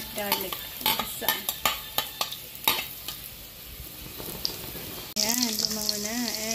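Onion and garlic sautéing in a little oil in a pan for pork pochero: a soft sizzle with repeated clicks and scrapes from stirring, followed by a voice talking over the cooking.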